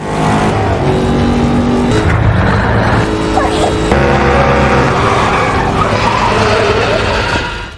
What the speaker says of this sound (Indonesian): Lalu ketika truk sudah terlihat, Emily langsung tancap gas